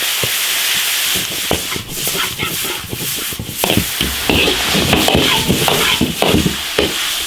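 Beef tripe stir-fried with pickled chillies, salt, soy sauce and cumin in an iron wok over high heat, a loud close scraping and rubbing of the spatula with sizzling throughout.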